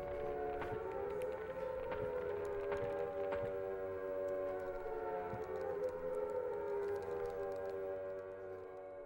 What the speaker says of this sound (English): the traditional Silent Hill siren